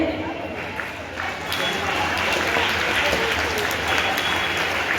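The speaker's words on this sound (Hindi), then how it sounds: "करतल ध्वनि से इन सभी का स्वागत करें" An audience at a school's World Hindi Day celebration breaks into dense, sustained clapping that swells after a brief, quieter start and holds steady, filling the hall as a welcome for the participants.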